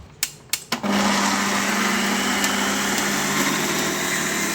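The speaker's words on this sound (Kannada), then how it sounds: "ಗರಂ ಮಸಾಲನ್ನು ಹಾಕ್ಕೊಂಡು ರುಬ್ಕೋತೀನಿ ಅದೊಂದು ಸ್ವಲ್ಪ ಆರಲಿ ಅಂತ ಬಿಟ್ಟಿದ್ದೀನಿ ಅಲ್ಲಿವರೆಗೂ ಇದನ್ನು ಗ್ರೈಂಡ್ ಮಾಡ್ಕೋತೀನಿ" A kitchen mixer grinder whirs at high speed grinding garam masala spices after a few short pulses at the start, then a loud steady motor whine that carries on to the end with no voices.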